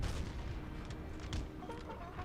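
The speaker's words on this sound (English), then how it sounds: "under the cover as well of cannon fire" Cannon fire in the Napoleon: Total War battle game, with a Prussian army advancing under bombardment: dull booms and scattered sharp reports ringing over a rumbling low background of distant artillery.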